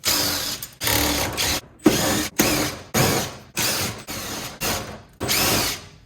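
Power driver whirring in repeated short bursts while removing screws from a water heater being scrapped for copper, brass and aluminium, loud and close, with brief silent gaps between each run.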